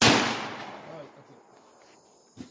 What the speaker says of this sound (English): That's enough of the shotgun shooting.